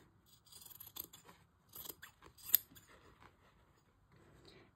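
Sewing scissors cutting a fabric pattern piece along its line, with a few crisp snips and slides of the blades in a quiet room, close and faint.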